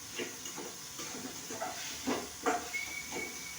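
An egg fries for a half-boil in a hot pan, giving a steady close sizzling hiss with soft irregular crackles and pops throughout.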